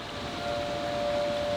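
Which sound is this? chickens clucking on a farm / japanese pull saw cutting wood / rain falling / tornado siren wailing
tornado siren wailing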